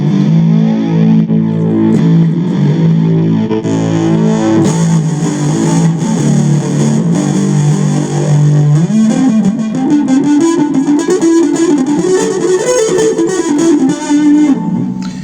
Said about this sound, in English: Let's try a few more cabinet simulations.